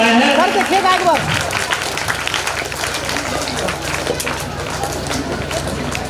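Classmates applaud at an Independence Day prize ceremony, a broad wash of clapping from a crowd that runs steadily throughout, with a brief voice at the start.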